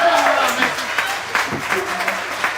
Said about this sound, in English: Everybody Give give him him a round of applause